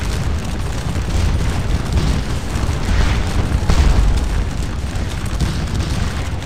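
Cannon fire from Dutch and British guns in the video game Scourge of War: Waterloo, a continuous rolling rumble of distant booms and low thuds that swells slightly midway.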